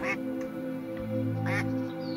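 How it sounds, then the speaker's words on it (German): Small ducklings quacking in a modded Minecraft world, a couple of short, bright quacks standing out near the start and again past the middle over a steady electronic game hum. "Kleine süße Enten spawnen jetzt in Flüssen."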